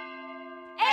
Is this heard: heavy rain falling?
no